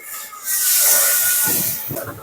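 Water and turmeric hitting a hot pan give a loud, steady sizzling hiss that swells and holds for about two seconds before easing, with a few faint clinks near the end.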